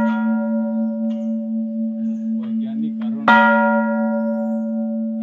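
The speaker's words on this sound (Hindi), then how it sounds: "आपण भी आले जरूर बजे देखबे से घंटाटा" A temple bell at Kailash Gumpha cave hums with a long resonant tone, then is struck once more, giving a loud bright clang that rings out and slowly decays.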